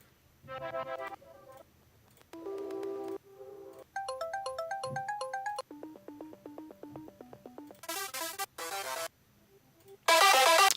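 Synthesizer arpeggios cycle through quick repeating note patterns in shifting bright tones, alone and fairly quiet, with short pauses between patterns.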